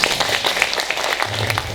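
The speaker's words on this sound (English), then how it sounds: "Let's give him a round of applause." An awards ceremony audience claps steadily, a dense close patter of many hands filling the room without pause.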